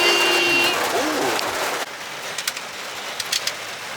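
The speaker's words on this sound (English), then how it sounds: "It's sunny and raining at the same time." Steady rain drums on a car roof while the car is in sunshine, a dense patter with occasional louder drops, under a soft hum.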